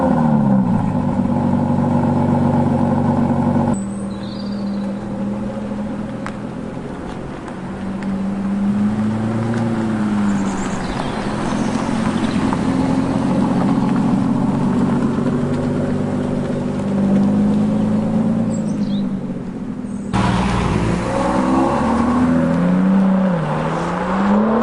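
An Aston Martin drives along with its engine droning loudly and steadily, the pitch rising and falling through several accelerations and gear changes, with no one talking.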